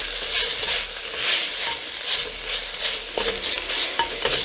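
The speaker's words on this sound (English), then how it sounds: "Alright, dropping my brisket in." Brisket hits a hot pot and sizzles, a bright, continuous hiss with surging bursts of spattering, heard up close and alone.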